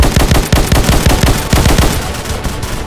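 Gunfire in the video game Slendytubbies on a daytime military factory map: loud, continuous rapid machine-gun bursts rattle close by without pause.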